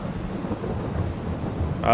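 Rain and thunder in the Farming Simulator 22 video game, a steady low rumble and rainfall wash throughout, with a brief brighter sound at the very end.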